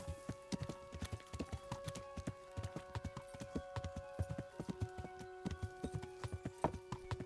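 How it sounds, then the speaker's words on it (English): A horse gallops in a video game, its hooves beating a quick, steady clip-clop rhythm throughout, close and distinct, over a sustained tonal musical background. "riding the horses in this game is ridiculous"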